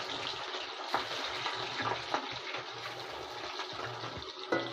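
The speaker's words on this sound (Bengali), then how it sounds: "কড়াইটা এবার গরম হয়ে গেছে, এবার মাছটা ছাড়ছি।" Pieces of rui fish fry in a hot wok, giving a steady watery sizzle with occasional soft pops and clinks, close and with no talking.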